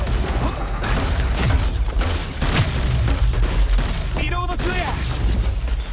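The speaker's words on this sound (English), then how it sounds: "Shoots bouncing grenade projectiles." Grenade launcher in the shooter Hyper Scape firing bouncing grenade projectiles, with several sharp pops and bursts amid busy game noise, and a voice talking over the action.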